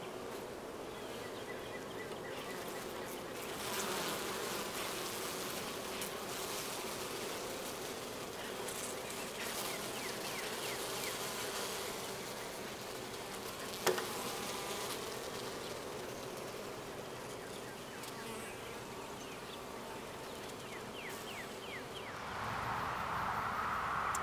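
Honeybees swarm up around an open hive in late July, a steady close buzzing hum that holds throughout, with a few light knocks and rustles of hive handling.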